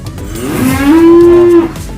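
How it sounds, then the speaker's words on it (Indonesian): A Limousin cow lowing on a cattle farm, one long loud close moo that swells and holds before fading, with no talking. "Ini jantan, wah ini betina nih."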